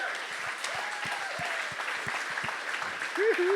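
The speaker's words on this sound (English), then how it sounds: "Hold that clapping" Applause from an audience at a talk, a spread of claps held steady through the stretch, with a voice cutting in briefly near the end.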